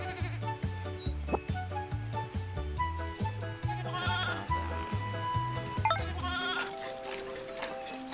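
Cartoonish sheep bleats from the farm game Farm Frenzy 4, repeating in a steady rhythm over bouncy background music, fairly loud and clear with no talking.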